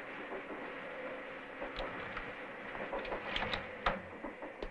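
A train runs along the tracks in the 1979 anime Galaxy Express 999, a faint, continuous rumble with soft rhythmic clicks and rattles that grow slightly busier toward the end.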